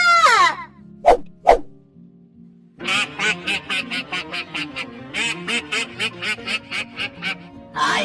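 Cartoon duck quacks in a long rapid run of loud, nasal calls, preceded by a couple of sharp isolated sounds and a brief squawk, in an animated Bengali folk story about clever foxes, a monkey and a bear.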